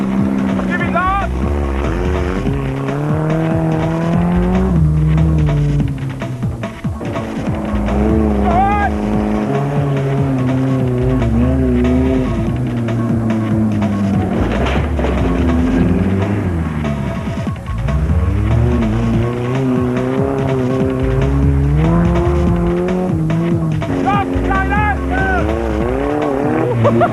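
A 20-foot limousine races laps at full throttle, its loud engine roaring close by with repeated rising and falling revs as it accelerates and eases through turns.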